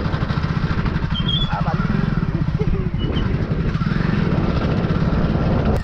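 A motorcycle is ridden along a village road. Its engine drones steadily and close by, with a rapid pulsing rhythm and some rattling clatter, for the whole stretch.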